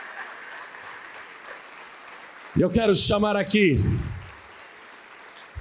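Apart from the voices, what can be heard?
church congregation applauding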